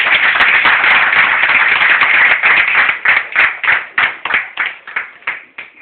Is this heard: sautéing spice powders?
no